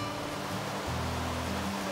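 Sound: fresh water flowing between pools on Pipiwai Trail

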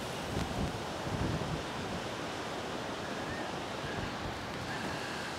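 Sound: strong wind blowing on a Great Lakes shore

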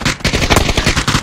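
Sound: gunfire in a video game

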